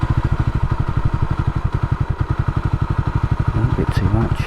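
Trusty Rusty MkII motorcycle engine idling, a loud, steady, rapid thumping pulse heard up close, with a voice briefly over the engine near the end.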